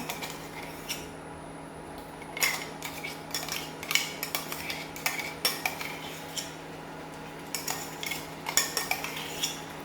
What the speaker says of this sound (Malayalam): നമുക്ക് കൈവിടാതെ ഇളക്കി കൊടുക്കണേ